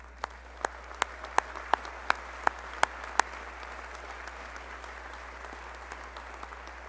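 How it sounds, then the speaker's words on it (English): Audience applause at a medical school commencement ceremony, with a few sharp, rhythmic individual claps standing out over a softer wash of crowd clapping that gradually thins out. "didn't even allow us to take time to applaud her wise remarks, but please join me"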